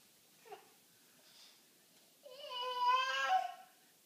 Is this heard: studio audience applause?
no